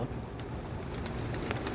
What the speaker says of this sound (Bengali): দেখেন ডাকাডাকি করছে এবং দারুণ চমৎকার কবুতর